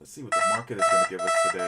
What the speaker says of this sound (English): that's my alarm going off for Netflix